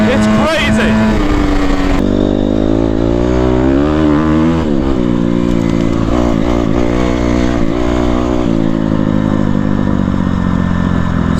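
Honda CRF250R four-stroke dirt bike fitted with a new exhaust, its engine loud and close, revving with rising and falling pitch and blipping throttle for the whole stretch.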